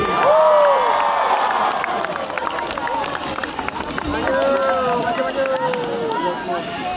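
A concert crowd at a show in Makassar applauds and cheers for a band member, a dense, loud wash of clapping and shouting voices that swells and holds throughout, with whistles and a voice over the top.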